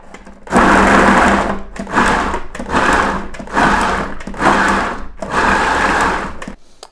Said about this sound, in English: I'm just wanting to kind of finely chop the carrots